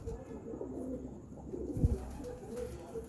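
Pigeons cooing softly in a loft during hot summer weather, a low murmuring coo rising briefly near the end over steady faint background noise.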